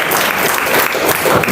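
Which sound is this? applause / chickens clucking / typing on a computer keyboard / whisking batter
applause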